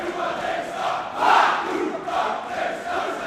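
A wrestling crowd roars during a PAC vs David Starr main event, a sustained indoor crowd noise that swells into a louder cheer partway through and then settles to a steady rumble.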